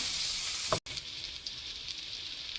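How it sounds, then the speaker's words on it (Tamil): Steady sizzling hiss of chopped garlic and ginger sautéing in a hot pan, fairly quiet and continuous, with a brief clink near the start. "சேர்த்து வதக்குங்க"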